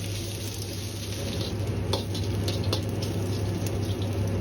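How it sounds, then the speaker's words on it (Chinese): Pork belly stir-frying in a wok with a little rapeseed oil, giving a steady, close crackling sizzle with a few sharp scrapes or ticks, over a low background hum and with no talking. "接着下入五花肉翻炒，五花肉炒的时间一定要长一点"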